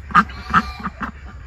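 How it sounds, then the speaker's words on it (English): A hen duck sitting in a tire quacks four times in quick succession, close and fairly loud, with the first two calls strongest and the last ones softer. "I have a duck in a tire."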